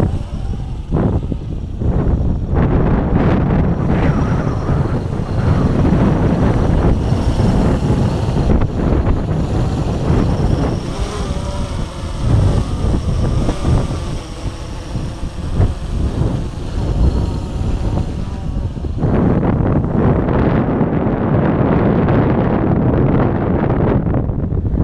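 Loud, gusty wind in Texas buffets the microphone continuously while a Blade 350QX drone flies, rumbling and roaring with surges, no voices.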